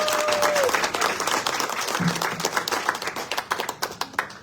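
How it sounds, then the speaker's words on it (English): Audience at a Girl Scout recognition ceremony applauding award recipients, a moderate round of clapping with individual claps standing out as it thins toward the end, and a brief voice near the start. "Let's give them one more round of applause."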